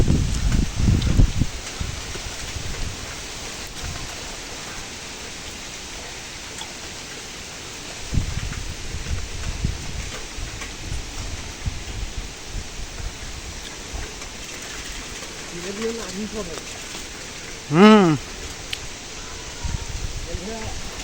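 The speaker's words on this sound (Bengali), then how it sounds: "আজকে সকাল থেকে এরকম বাতাস বইছে।" Gusty wind blows outdoors along a rough road, with low rumbling buffets that come and go. A short vehicle horn sounds near the end.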